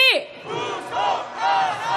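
A large crowd at a candlelight protest march in Seoul toward Gwanghwamun roars a rallying cry, a sustained, loud mass shout that swells in two waves after a sharp opening yell.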